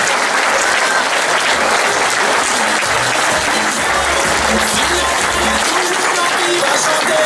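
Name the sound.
audience applause for rally podium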